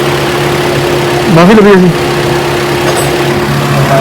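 A motorcycle engine idles with a steady, low hum that runs throughout, while people talk close by over it.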